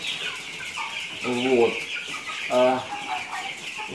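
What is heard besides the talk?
broiler chickens clucking in a poultry house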